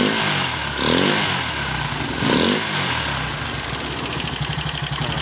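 The engine of a Viar three-wheeled motorcycle is revved twice in brief swells, then settles into a steady, rattling idle, loud and close with no voices.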